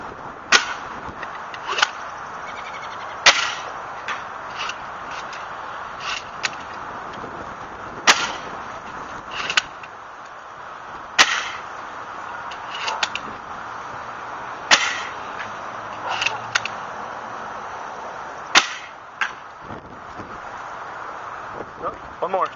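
A plusbow test fires old Steffens projectiles outdoors, producing sharp snapping releases at irregular intervals of a few seconds, each a crisp whip-like crack over steady background wind hiss.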